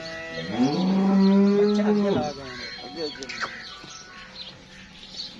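A Jersey–Friesian cross-breed cow gives one long, loud, close moo that drops off sharply, followed by quieter farmyard sounds and faint bird chirps.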